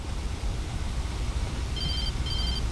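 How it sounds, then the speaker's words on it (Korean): A telephone rings in the video game Alan Wake Remastered, two short electronic ring bursts cutting in over a steady hiss of ambient noise, with no talking. "왜 전화 왔다"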